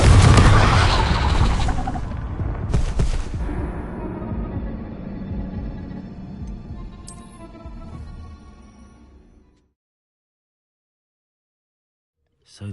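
Loud fiery blast bursts from the Confringo spell in Hogwarts Legacy boom out in quick succession, then the rumbling roar tapers and fades into silence before a final small hit at the end.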